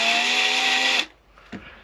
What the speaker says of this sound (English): that's what I like about this carbide mill, is the sides are designed to cut as well as the end